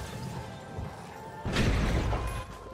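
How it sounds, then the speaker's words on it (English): A glass smash bursts out midway through a stretch of noisy game action in the arena shooter The Finals, a loud crashing break lasting about a second over steady background din. "And breaking glass."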